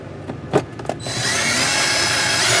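Power drill or screwdriver driving screws while reassembling a Toshiba 10.3 cubic foot two-door refrigerator with a compressor fault; a few short clicks and taps, then a steady close whirring run of the tool.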